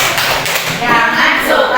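A group of children claps together in a rhythmic anti-bullying chant routine at a school positive-culture session, with steady claps and thuds close by, mixed with their voices.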